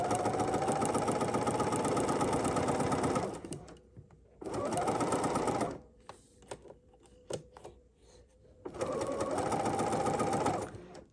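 Sewing machine stitching fabric for an embroidery sampler block, three loud bursts of rapid, even needle chatter separated by pauses filled with quiet clicks and handling noises, heard up close.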